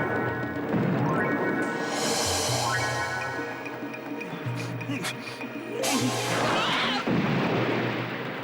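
A volley of gunfire in the Sandokan TV series comes as several sharp, crashing blasts spaced a few seconds apart, loud and booming over a busy, noisy scene.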